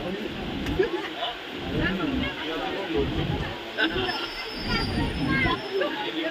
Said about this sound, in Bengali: ট্রেন ছেড়ে দিল দেখো